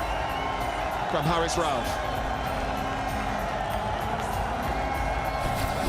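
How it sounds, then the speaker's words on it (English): Cricket crowd cheering steadily at a match, a broad continuous roar that holds throughout, with a commentator talking over it. "the fans continue to cheer for some excellence"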